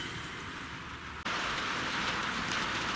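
Steady rain falls outdoors in a dense, even hiss, growing heavier after a brief dip partway through, with no voices.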